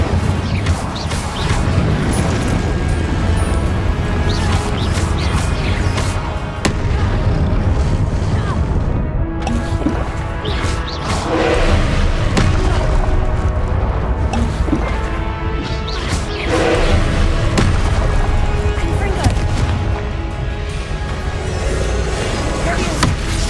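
Confringo and Incendio fire spells blasting in the Hogwarts Legacy video game, a loud dense barrage of crashing explosive hits and booms, continuous throughout with brief dips, with a voice calling out in places.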